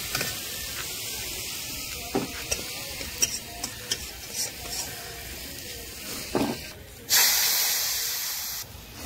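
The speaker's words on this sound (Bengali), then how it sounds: "খিচুড়ি হাঁড়ির মধ্যে দিয়ে দেবো।" Khichuri goes into a pot of fried spices, raising a continuous sizzle with scattered clicks and knocks of stirring, then a sudden louder burst of hissing near the end.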